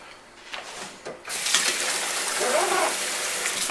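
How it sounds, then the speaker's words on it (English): Water gushes over brined shallots in a colander as they are rinsed and drained: a steady, close splashing rush that starts after a short quieter stretch with faint handling noises. "Just going to drain them through a colander here."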